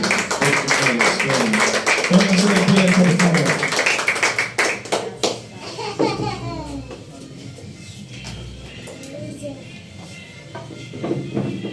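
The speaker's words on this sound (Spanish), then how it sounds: "den un aplauso a Cristo" Church congregation claps loudly during a sermon for several seconds, mixed with voices and a child's babble, then the applause fades and a preacher speaks over a quieter room.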